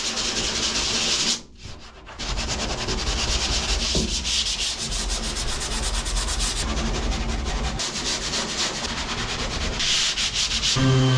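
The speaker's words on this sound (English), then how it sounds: "Some 80 grit sandpaper here." Steady hand sanding of a 1982 Ford F150 truck body with 80 grit sandpaper, a continuous close rasping scrub with one brief pause near the start.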